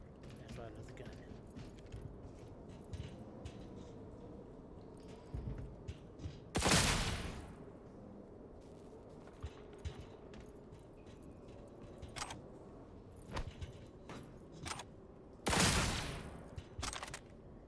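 Gunfire from a gun in Cyberpunk 2077, scattered sharp shots with two louder bursts standing out, mixed with mechanical clicks and game sounds, under quiet talk.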